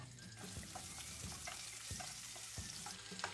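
One small chopped onion frying over low to medium flame in a pan with roasted whole spices for restaurant-style shahi pulao, a steady close sizzle with soft periodic stirring knocks.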